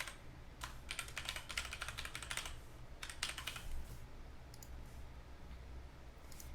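Fingers type on a computer keyboard while entering details into a password manager set up on a Raspberry Pi, producing quiet bursts of rapid key clicks separated by short pauses.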